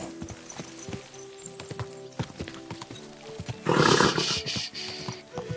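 Hooves clip-clop in a steady trot amid video game ambience in Kingdom Come: Deliverance 2, with a louder burst of rustling or rushing noise partway through.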